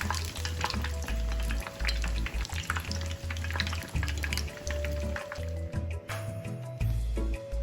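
Batter-coated traditional tapioca coconut cakes deep-frying in hot oil, a dense steady crackle and sizzle with low bubbling throbs running continuously, close and loud throughout.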